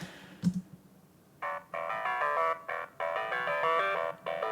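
A bright, funky clavinet riff plays in short choppy bursts with brief gaps, after a single hit near the start; no voices.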